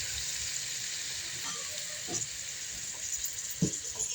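Chopped tomatoes and coriander cooking in a pan with turmeric, a faint steady sizzle and hiss under occasional soft stirring knocks, quiet and without talk.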